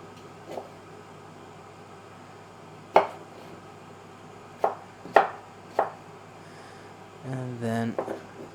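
A knife cutting food into cubes for a couscous salad, first slicing lengthwise and then across. A handful of separate sharp board knocks come at uneven intervals over a quiet kitchen background, followed by a brief clatter near the end.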